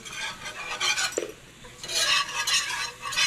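A spoon stirs flour into melted butter in a pan for a roux for beef stroganoff, scraping steadily with soft sizzling and a single light clink, close by and with no talk.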